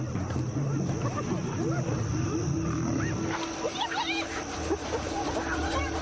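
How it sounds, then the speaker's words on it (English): Lions chasing scattering hyenas in the African wild, heard as a dense, chaotic mix of growls, whoops and squealing animal calls, fairly close, with cries rising over a rumbling low roar throughout. "The hyenas scatter, with lions on their heels."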